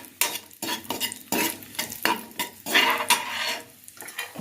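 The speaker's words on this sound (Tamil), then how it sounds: "இதை நல்லா வறுத்து எடுத்துக்கலாம்." Nuts fry in a pan for kalkandu milk pongal, with a utensil scraping and stirring in repeated rhythmic strokes over a soft sizzle, close and fairly loud.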